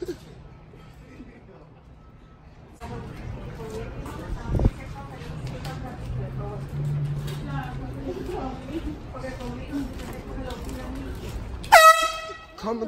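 An air horn blasts loudly and briefly near the end amid New York City street noise, with voices and crowd murmur, a horse's hoof clops, and a short thump earlier.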